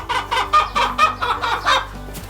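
Several hens clucking and calling in a poultry house with about 51 laying hens, a steady run of overlapping bursts close by, with a low hum underneath.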